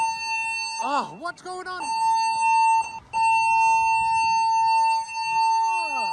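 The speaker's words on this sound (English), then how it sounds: "I decided to pull a fire alarm on the cruise" A fire alarm aboard a cruise ship sounds as a loud, continuous electronic tone with a brief break, while people talk over it in surprise.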